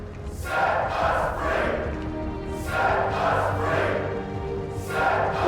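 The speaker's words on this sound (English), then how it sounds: "Voices sound a lot more dense than the crowd actually is." A dense crowd of voices chants in a steady, swelling rhythm in an Android video game, with repeated surging phrases over a constant low rumble.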